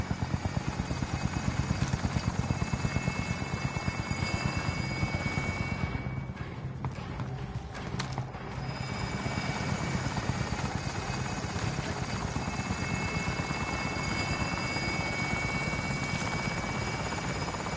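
A helicopter in the video game Call of Duty Warzone holds a steady, loud rotor drone throughout, with a brief dip midway and faint gunfire mixed in.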